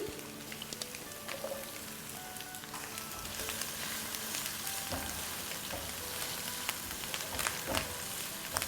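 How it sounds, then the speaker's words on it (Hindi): Green onion whites with garlic sauté in a hot pan, giving a steady, dense sizzle with scattered crackles and pops throughout, close and fairly quiet, no voices. "सौटे करेंगे, इसको भी हिला लेते हैं।"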